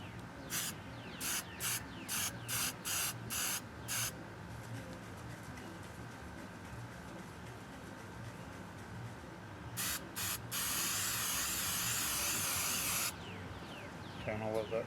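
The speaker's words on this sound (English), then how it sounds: "I'm going to go ahead and use the hairspray" Hairspray from an aerosol can, hissing in short bursts followed by one longer steady spray, close and fairly quiet, with faint birds cooing and chirping in the background.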